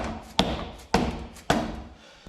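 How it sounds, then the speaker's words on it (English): Three evenly spaced, dull thuds from a dead blow hammer striking a car flywheel during a repair. Each blow lands close and solid and is followed by a short decay. "I like to use a dead blow so I don't nick up the flywheel."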